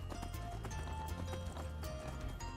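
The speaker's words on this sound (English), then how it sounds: "I am about to run up the mountain on a horse." Horse hooves clip-clop in a quick running rhythm in the Skyrim video game, repeated hoof strikes over a low rumbling game soundscape, moderately loud and steady throughout.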